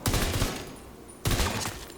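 Rifle fire in the video game The Division 2, two rapid bursts of full-auto shots, each roughly a second long, separated by a short pause, fairly quiet and without voices.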